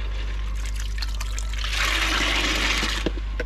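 Water poured from a jug into a koi pond holding and quarantine tank makes a close, continuous splashing trickle that swells into a fuller rushing pour midway, over a steady low mains hum.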